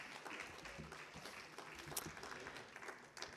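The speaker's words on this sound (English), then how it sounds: "Another big round of applause for David and Halehaku." Audience applause at an Aloha United Way fundraiser concert at Kapi'olani Community College, a steady wash of clapping from a crowd, moderately distant and fairly quiet throughout.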